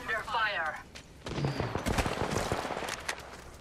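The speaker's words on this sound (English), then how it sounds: "I'm under fire." Rapid bursts of gunfire in the battle royale video game Apex Legends, crackling in a fast volley after a brief line of speech.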